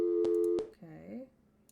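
Telephone busy signal in the Gabriel Knight point-and-click adventure game: two loud, steady tone bursts with a brief pause between them, then a voice speaking quietly over a fading tail.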